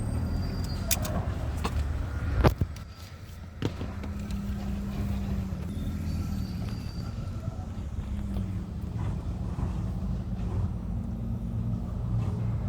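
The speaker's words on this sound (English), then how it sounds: "There's my sub truck, guys." A substitute truck, unit 16148, idles with a steady low diesel rumble throughout, punctuated by a few sharp clanks and a brief dip in level early on, with no voices.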